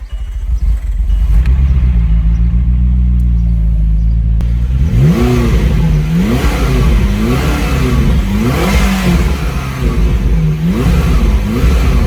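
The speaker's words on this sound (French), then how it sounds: "Je vais donc faire un start-up, on appuie sur le frein, start engine, allons-y." A McLaren MP4-12C starts up after a few quiet seconds, then its engine revs loudly in repeated rising and falling sweeps, close and alone.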